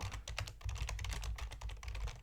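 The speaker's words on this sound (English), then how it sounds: "Sorry about the keyboard sound there" Rapid, irregular keystrokes on a computer keyboard sound close and quiet, a continuous patter of clicks with no talking over it.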